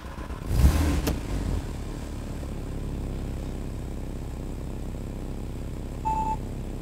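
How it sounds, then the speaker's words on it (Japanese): A 2009 Porsche 911 (997) Carrera 4S PDK engine cranks and fires with a loud burst, then settles into a steady idle rumble; a short beep sounds near the end. "ではエンジンを始動します"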